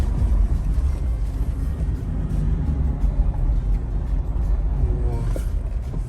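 A Toyota Land Cruiser 76 pickup grinds along a rough, rocky track in 4-high with both differentials locked, its engine a steady, loud, close rumble with constant road and body noise.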